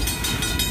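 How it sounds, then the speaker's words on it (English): Train rolling past on the Portland and Western Railroad, a close, steady rumble with rail noise heard alone over a very brief stretch. "this train going by on the Portland and Western Railroad"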